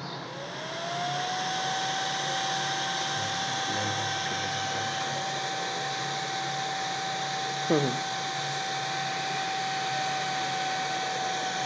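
A cooling fan driven by an output of an Arduino PLC spins up to speed within the first second and then runs as a steady whirring drone with a clear constant tone, with a brief clunk near the end.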